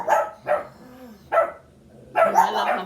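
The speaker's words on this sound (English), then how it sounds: "Look at how the dogs are going off." Dogs bark in loud, nearby bursts: two quick barks, then a pause, another bark, and a longer final volley of barking, with a faint whine in between.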